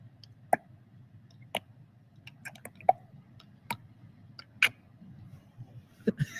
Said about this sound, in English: You speak Xhosa, the wonderful clicking.